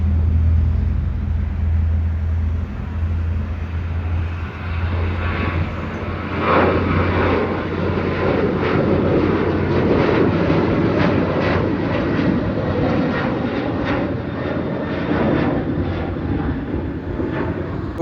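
A Bangladesh Airlines Boeing 737-8 takes off from Delhi Airport bound for Dhaka, its jet engines roaring loudly and steadily with a deep rumble and a rising whine as the thrust builds.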